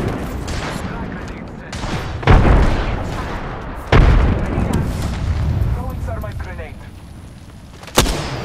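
Frag grenade explosions and gunfire in a battle-royale style video game, with heavy booms around the middle and a sharp blast near the end, mixed with in-game voice callouts and ongoing combat noise.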